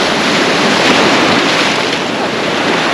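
Sea waves wash steadily on the shore, a dense, continuous roar of surf mixed with wind buffeting the microphone, loud and close throughout with no clear speech.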